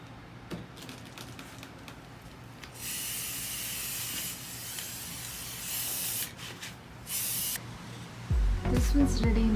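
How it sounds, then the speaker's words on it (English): Rust-Oleum high performance enamel sprays onto a vase in several hissing bursts of a few seconds each, separated by quiet pauses, with a louder handling clunk near the end. "I'm using this Rust-Oleum high performance enamel for spray painting my vase"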